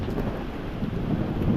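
Low rumbling thunder from a passing storm outdoors on a fishing trip, a steady deep roll mixed with wind buffeting and rain noise, no voices.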